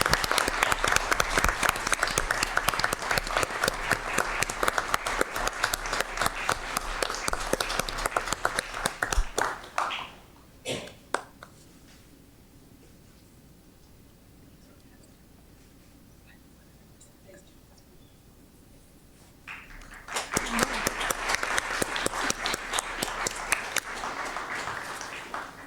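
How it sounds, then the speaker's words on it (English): An audience at a school governing board meeting breaks into applause, a dense wash of many hands clapping for about ten seconds, then near silence for about ten seconds, then a second strong burst of clapping. "Give her a round of applause."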